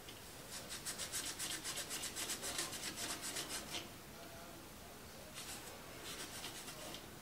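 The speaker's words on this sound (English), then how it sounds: "Piece of Scotch-Brite." A Carrier furnace flame sensor scrubbed with a piece of Scotch-Brite, quick rhythmic back-and-forth rasping strokes up close, a run of about a dozen strokes, a pause, then a few more.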